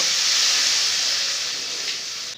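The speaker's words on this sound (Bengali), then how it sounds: "এবারে আমি দিয়ে দিব জল" Water poured into a hot pan of curry with fried potatoes sets off a loud, continuous steamy hiss that slowly fades over a couple of seconds, close up, with no speech.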